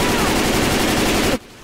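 Rapid automatic gunfire in Left 4 Dead 2 co-op play rattles loud and continuous for over a second, then cuts off abruptly into quiet.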